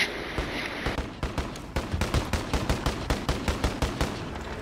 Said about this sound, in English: He's shooting from third level, yep.